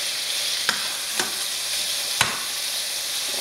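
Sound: burger patties sizzling in a pan as they are flipped

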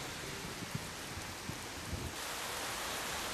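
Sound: monsoon rain falling on a stream

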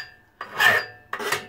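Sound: sawing with a hacksaw

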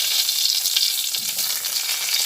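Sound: black mustard seeds and bay leaf sizzling in oil for tempering

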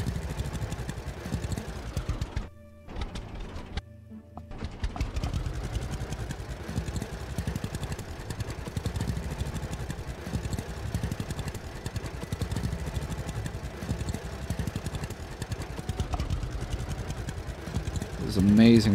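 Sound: tractor engine plowing in video game Farmer's Dynasty

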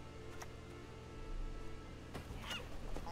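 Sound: seagulls squawking in the video game Gwent

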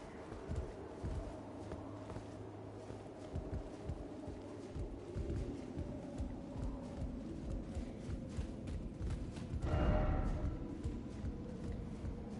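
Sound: horse footsteps while riding in Elden Ring: Shadow of the Erdtree video game

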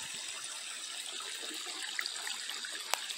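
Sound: water flowing that supplies a garden tank

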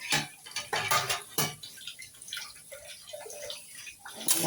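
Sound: washing dishes

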